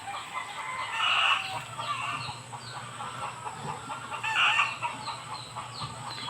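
Chickens cluck and chatter in a farmyard, with two louder bursts of clucking standing out above a steady background hum; a rooster crows.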